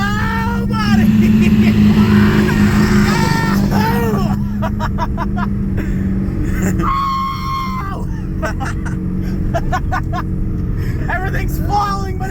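An old truck drives hard through sand on a rough, bumpy ride, its engine roaring and revving loudly throughout. People scream and shout excitedly over the motor.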